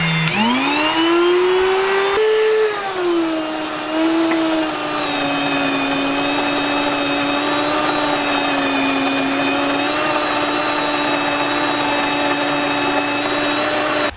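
WonderMill electric grain mill grinding seeds, a loud, steady high-pitched motor whine with a strong droning tone that dips slightly early on, then holds continuous and close with no talk.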